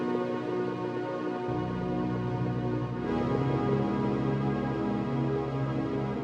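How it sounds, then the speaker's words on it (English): Layered synth pad from a Serum preset for a slow pop track, dense and sustained, with a low bass note entering partway and the texture brightening later, steady and fairly quiet, no voices. "Now the next thing that I added was some more synth layers."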